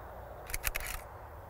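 A camera shutter fires for a slow-shutter photo taken to blur the background, a crisp mechanical click, a short whirring burst of clatter and a closing click, heard alone in a quiet room.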